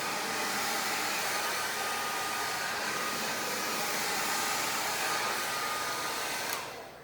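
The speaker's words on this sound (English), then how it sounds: "So we're gonna be blow drying." A hair dryer blows steadily at close range while small sections of hair are blow dried, a loud even whoosh throughout that drops off at the very end.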